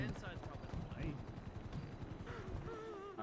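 Rapid bursts of gunfire in a GTA V NoPixel roleplay, quiet and somewhat distant, rattling under speech.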